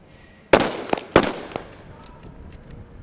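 Sniper rifles fired by Dubai Police SWAT academy snipers at targets on an outdoor range, two loud sharp cracks about half a second apart followed by fainter distant shots and echoing tails.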